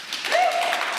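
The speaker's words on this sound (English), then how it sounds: "Let's hear a big round of applause" An audience at a 45th-anniversary celebration gives a brief burst of steady, dense clapping, heard from a moderate distance.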